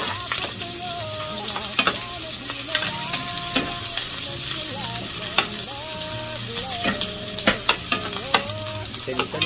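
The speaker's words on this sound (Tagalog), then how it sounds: "Magigisa lang tayo" Sliced onion sautéing in hot oil in a pan, a steady close sizzle with intermittent scrapes and clinks of a spoon stirring against the metal, no voices.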